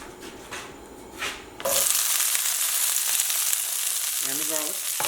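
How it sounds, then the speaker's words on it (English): Bok choy hits a hot pan with sesame chicken, bursting into a loud, steady sizzle after a quieter start with light scraping, the frying continuing close and constant to the end. "And then we're going to add the bok choy."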